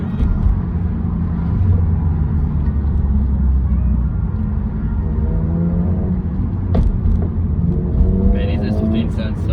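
A Nissan S15 cruises with a steady, low engine rumble at a meet and cruise, heard from inside a following car over road noise. Faint higher engine tones rise and fall near the end.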